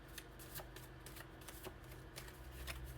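Tarot cards riffle and slap together in quick, uneven bursts, close and quiet, with no voices.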